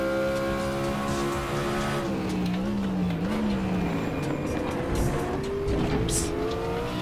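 A Mustang race car in RaceRoom at Zolder, with its engine roaring close and continuous, pitch falling and climbing through gear changes, plus brief tire noise.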